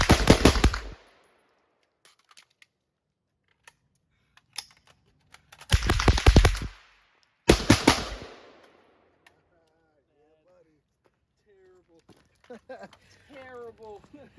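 Two loud, sharp rifle shots from a .22 rifle and a 5.56 rifle ring out a couple of seconds apart at close range, with a few faint clicks of handling around them and brief voices near the end.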